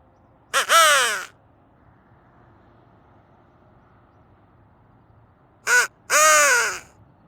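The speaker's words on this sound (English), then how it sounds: "We get one crow." A crow caws loudly outdoors, a single harsh call followed after a long quiet pause by a short caw and then a longer one, each rasping and close, with faint background hum between calls.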